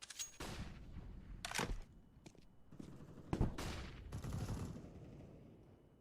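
Counter-Strike gunfire on the Dust2 map, including AK-47 shots: scattered sharp bursts and single cracks at varying distances over a low background wash, fairly faint overall.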